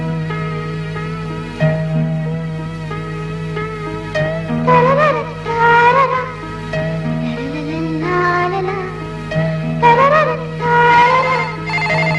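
A telephone rings in a scene from a 1999 Malayalam film, a melodic electronic ringtone repeating its rising phrases loudly over a steady low hum, with no talking.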